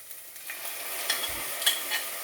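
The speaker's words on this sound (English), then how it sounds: "And I'm now going to add in my tomatoes." Chopped tomatoes are stirred into frying ginger, garlic, cumin and chillies for moong dal, a bright close sizzle with soft scraping stir strokes and a light thump near the middle.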